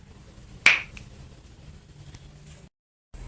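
A single crisp finger snap rings out close by in a home being cleaned, a sharp isolated crack followed by quiet room tone.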